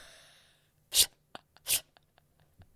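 A person mimics an animal sneeze, a cat's or a dog's, with two sharp, breathy bursts close to the mic. A few faint clicks and breaths follow in an otherwise quiet room.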